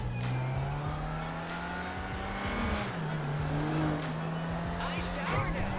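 A small car in GTA 5 revs and drones during a police chase, its engine note rising and falling with gear changes and brief tire squeal, loud and close, with voices talking over it.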